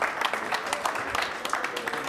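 Crowd applause for the poker champion at the Deauville European Poker Tour final table, continuous many-handed clapping at an even level, with a faint voice mixed in.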